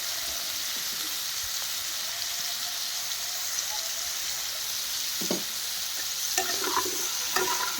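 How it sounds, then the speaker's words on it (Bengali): Cauliflower pieces fry in a pan for a cauliflower korma, a steady sizzle running throughout with a few brief scraping stirs toward the end, close and alone with no voices. "ভালো করে একটু লাল লাল করে ভেজে নিচ্ছি ফুলকপিটা।"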